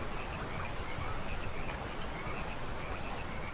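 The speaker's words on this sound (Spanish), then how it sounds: "Sigo escuchando la puta rana esta" Blue jeans poison frogs (Oophaga pumilio) call from tropical forest in a faint, continuous chorus of rapid chirps buried in dense insect and ambient hiss, with no talking.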